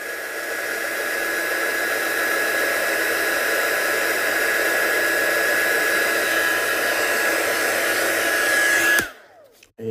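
A heat dryer blowing steadily while drying off a craft piece, a loud continuous whine and rushing air for about nine seconds before it cuts off abruptly.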